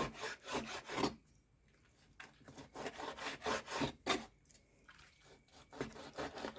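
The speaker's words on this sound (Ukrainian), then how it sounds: "І просто отак, рулетиком я його складу і ріжу на довільні полоски." A knife slices rolled, salted calf stomach into strips on a board, making quiet, rhythmic rubbing and scraping strokes with brief pauses between cuts.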